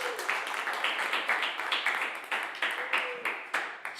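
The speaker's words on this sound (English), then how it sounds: "I mean, yeah, you can clap." Audience applause and clapping at a live music radio show, a dense wash of many hands with several swells and fades, fairly close and loud, with no talking over it.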